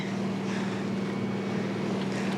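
Sailboat under engine power with the mainsail up, close-hauled off the Isle of Eigg, a loud steady droning motor hum with constant wind and water rush, no voices.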